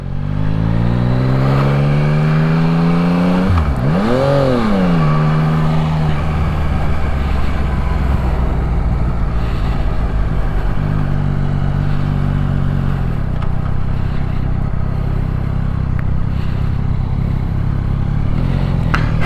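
A 2022 Yamaha MT-09 motorcycle engine rumbles steadily while riding, loud and close, with a clear rev rise and fall early on, then a sustained drone with wind noise.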